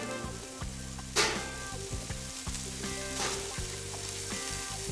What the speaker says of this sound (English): And listen to it sizzle.